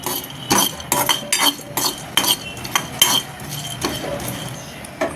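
A spatula or spoon scraping and clinking against a pan while ingredients for homemade baby cereal are dry-roasted, a series of sharp, close stirring strokes at an uneven rhythm with no talking.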